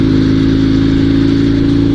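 A Dnepr two-wheel-drive sidecar motorcycle engine at full throttle, loud and near, with a strained, slightly uneven roar as one cylinder falters, during a rough off-road ride.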